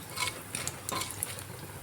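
Panch phoron frying in oil in a wok, with a low sizzle and a few light metallic scrapes and clinks of a spoon stirring, fairly quiet and brief.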